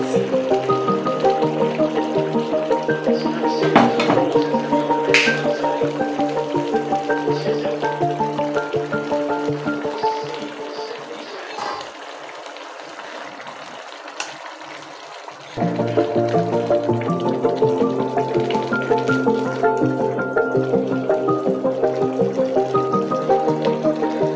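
Fish and meat are poured into a cooking pot for Nigerian egusi melon soup, giving a steady liquid pouring and bubbling sound with clinks, a quieter pause midway, then a resumed stream.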